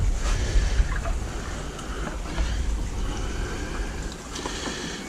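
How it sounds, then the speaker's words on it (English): Liquid being siphoned while cleaning silver powder gives a continuous soft gurgling wash with faint watery trickles, steady and close, with no voices. "siphoning away nicely"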